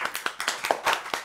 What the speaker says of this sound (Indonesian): Tepuk tangan dulu buat Cikawa Ode dong